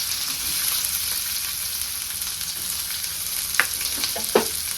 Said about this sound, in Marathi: आता कांदा आपल्याला लाल होईपर्यंत तळून घ्यायचा तेलामध्ये